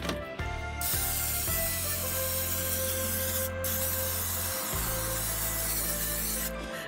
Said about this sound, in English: our non-stick cooking spray